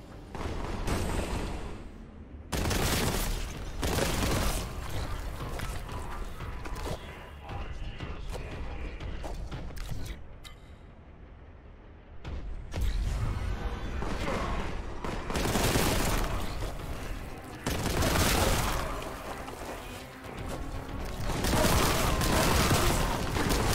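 Bolt gun firing in a first-person shooter against cultist enemies: dense, loud bursts of gunfire and mechanical clatter recur across the stretch, with heavy impacts and a short quieter lull in the middle.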